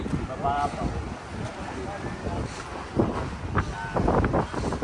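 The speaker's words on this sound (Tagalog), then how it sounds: "Mahangin." Gusty coastal wind at Dinahican buffets the microphone with low rumbling roar throughout, while voices talk faintly underneath.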